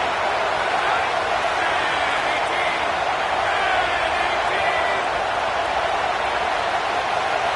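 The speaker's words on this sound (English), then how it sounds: "The Buckeye crowd alive on 3rd down." Loud Ohio State Buckeyes football stadium crowd roaring on third down, a dense, steady wall of cheering and noise that holds for the whole stretch with no pauses.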